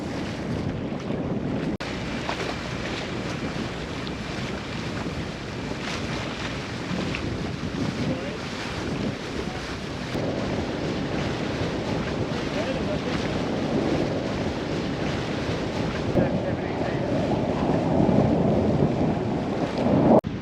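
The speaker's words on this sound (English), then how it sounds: "Still a little bit of wind around" Steady wind gusts buffet the microphone at sea beside a boat anchored in deep water off a reef, with lapping water and a continuous roaring rush that swells slightly toward the end.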